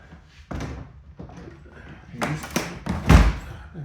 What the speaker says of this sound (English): Doors do not want to close.